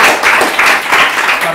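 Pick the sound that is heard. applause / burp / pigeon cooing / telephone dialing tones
applause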